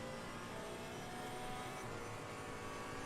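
Engine drone of a GT3 race car in Assetto Corsa Competizione, 2020 GT World Challenge Pack, held low as a steady, muffled hum with no speech over it.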